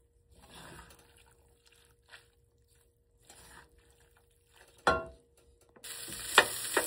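Tuna pasta with a basil leaf being stirred and mixed in a pan, with faint sizzling, scattered soft scraping bursts and a sharper clatter, then a brighter steady frying hiss near the end.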